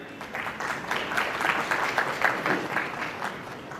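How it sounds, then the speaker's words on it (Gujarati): An audience at a stock exchange listing ceremony breaks into sustained applause, many hands clapping together in a dense, moderately loud burst that swells and then holds steady for several seconds. "પ્લીઝ એક વાર જોરદાર તાળીઓ દે જાય."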